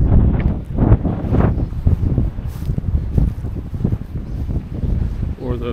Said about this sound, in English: It's quite windy here today.